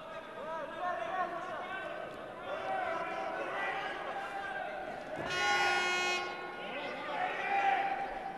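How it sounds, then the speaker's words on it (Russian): A bright, sustained air horn or klaxon blares for about a second over the steady hum of a freestyle wrestling tournament crowd, with a commentator talking throughout. "Да, слышим звуки гудков. И клаксоны шумят."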